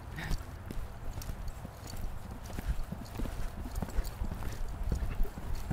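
Horse hooves clip-clopping steadily in a riding exercise, a regular rhythmic beat on soft ground, close and clear, with faint background noise and no talk.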